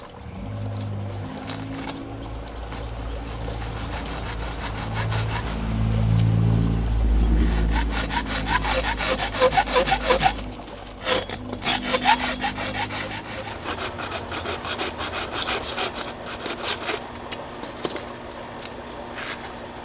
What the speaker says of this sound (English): I'm going to nibble just a little bit off the inside rail on both exposed ends with the hacksaw